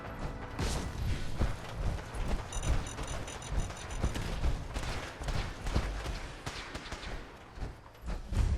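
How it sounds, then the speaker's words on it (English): Rapid gunfire from the video game Fallout 4, set in downtown Boston, crackling as a dense, continuous barrage of overlapping shots with mechanical clanks throughout. "Hear a whole bunch of shooting."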